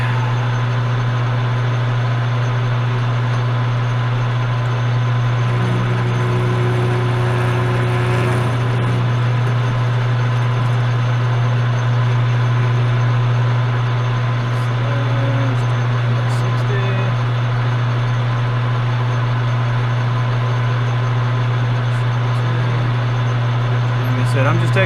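A Logan metal lathe turns slowly through a light facing cut, holding a steady droning motor hum with a faint scraping cut layered over it throughout.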